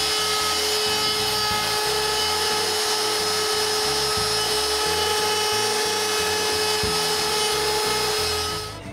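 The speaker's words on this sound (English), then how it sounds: "route a small round over inside" A small router cutting a round-over on the inside of a wooden drawer pull, a steady high whine with a fluttering low chatter as the bit bites, close and loud throughout before winding down at the end.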